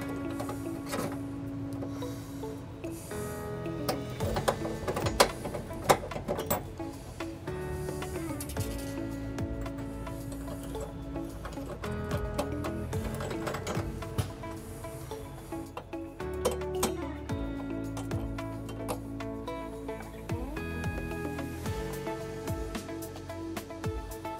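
Flange nuts threaded onto trailer hitch bolts beneath a 2013 Kia Rio, with scattered metallic clicks, ratcheting and rubbing at close range over a steady background hum.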